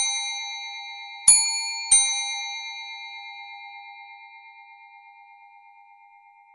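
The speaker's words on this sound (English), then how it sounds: "The second quarter chime repeats the first quarter chime twice." A clock's second quarter chime striking two clear metallic ding tones about half a second apart, each ringing out over a long slowly fading sustained hum, close and alone.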